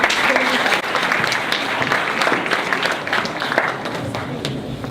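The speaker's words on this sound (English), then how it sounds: "Nous vous invitons à chaleureusement applaudir notre bien-aimé secrétaire général" Delegates at the MEDMUN 2019 Model UN conference applaud their secretary general with a long, even wash of clapping that fills the hall at steady volume throughout.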